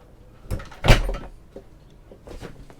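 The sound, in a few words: closing cabin doors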